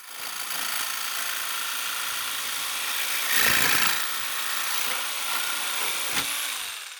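A Ronix 4111 electric jigsaw with orbital action off and speed set to 3 cuts through metal at an angle, giving a steady, loud buzzing saw drone that runs the whole time and swells briefly partway through.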